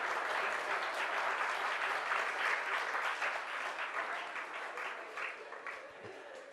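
Sustained audience applause fills a hall during a yoga satsang, dense and steady throughout, easing slightly toward the end.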